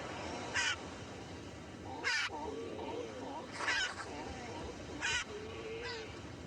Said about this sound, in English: the curiosity of the Espanola mockingbirds